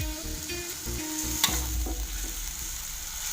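Noodles and garlic fry in a pan with a steady bright sizzle, broken by clinks and scrapes of stirring, heard close with no voices.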